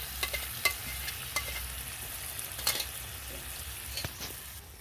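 Browned chicken sizzles in a pan as a paste of tomato, dried chili and cashew goes in, with a steady low fry and a few sharp stirring scrapes close by.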